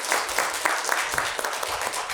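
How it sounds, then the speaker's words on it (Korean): A church congregation at a New Year's Sunday service applauds one another, the claps falling in a loose rhythmic beat that stays fairly sparse and moderately loud for a couple of seconds. "우리 각자 서로 박수하겠습니다"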